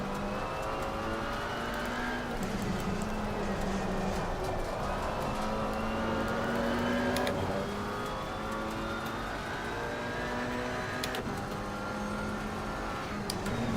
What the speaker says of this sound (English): And there goes the Porsche.